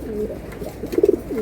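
Giribaz pigeons in a breeding loft coo softly and close by, giving a few low warbling calls and then a quick rolling burst of throaty coos.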